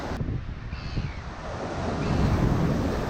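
Waves wash over rocks on the Otago coast in New Zealand, a steady roaring surge that swells louder toward the end, mixed with wind buffeting the microphone, with no talking.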